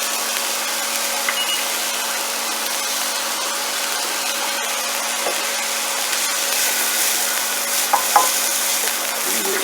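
Vegetables sweating gently in oil over low heat for a stuffed clams dish, giving a soft, steady sizzle with light stirring scrapes, close by and continuous with no talking.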